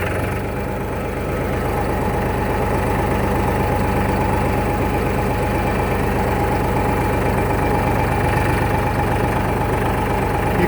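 Farmtrac 545 diesel tractor running during a test drive on a lot, a loud, steady chugging engine rumble close up with a knocking diesel rhythm, continuous and unbroken.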